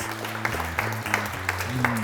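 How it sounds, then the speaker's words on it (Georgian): An audience claps for a student team on a televised quiz show, giving a brief, steady burst of applause with a voice speaking over it. "აპლოდისმენტები საალტკროკელებს"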